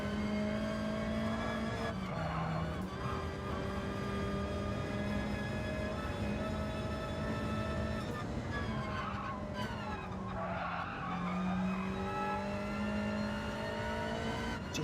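Race cars in Gran Turismo 7 drone with loud, steady, high-revving engines; pitch drops briefly at gear shifts and tires squeal faintly, with no talk.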